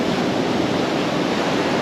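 Ocean waves wash along the Goa coast in a continuous, loud broadband roar of surf with some wind noise on the microphone and no voices.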